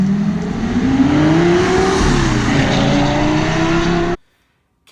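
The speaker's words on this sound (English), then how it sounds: "the unique noises that the V10 pump out," Lamborghini Gallardo V10 engine revs loud and close, a sustained rising and falling growl that holds steady for about four seconds before cutting off abruptly into silence.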